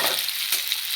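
Raw banana pieces for chutney sizzle in hot oil in a pan, a loud, dense hiss lasting under a second with no talking.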